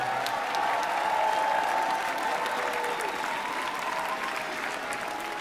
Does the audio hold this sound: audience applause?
yes